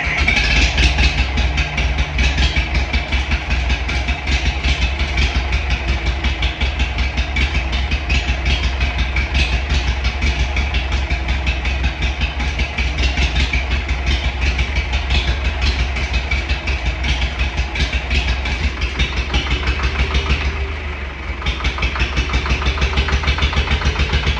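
An International TD9 diesel engine runs steadily at idle, a loud, even chugging clatter that holds for the whole stretch with one brief dip near the end, no talking.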